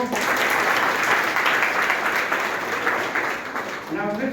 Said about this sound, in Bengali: আরেকবার হাততালি হোক।